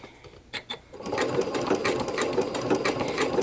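A sewing machine stitches along a fabric edge, starting after a couple of brief clicks and then running in a close, steady, rapid mechanical whir that continues without pause.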